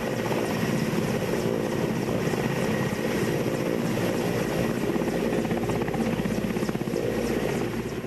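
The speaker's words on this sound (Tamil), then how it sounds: "இந்த 2 ஹெலிகாப்டர்களும் மண்டபம் வந்திறங்கி ஒத்திகை மேற்கொள்ளப்பட்டது." Two Mi-17 military helicopters landing at Mandapam, a loud, steady rotor and engine roar that holds close and constant throughout, with no voices.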